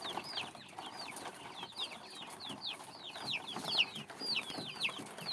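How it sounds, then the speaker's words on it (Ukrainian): Many chicks raised alongside quails chirp in quick, high, overlapping peeps, a busy continuous chorus with a soft background hum. "Так що ось так ростуть курчата"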